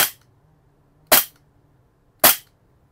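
GHK G45 gas airsoft pistol firing three sharp, loud single shots about a second apart, each a crisp crack with a short decay over a quiet background.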